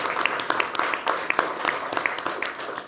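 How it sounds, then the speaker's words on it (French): Applause from a studio audience welcoming a guest on a French talk show, a light steady patter of claps with some individual sharp hits standing out, moderately loud throughout the short burst. "on peut l'applaudir"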